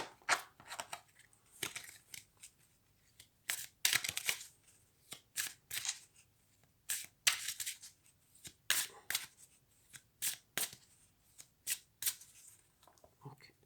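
A deck of tarot cards is riffled and shuffled in repeated quick bursts of crisp flicking and slapping, close and quiet, with short pauses between each run.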